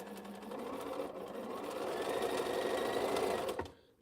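A sewing machine stitches fabric in a steady, continuous whir, running evenly and fairly close for several seconds before stopping abruptly near the end.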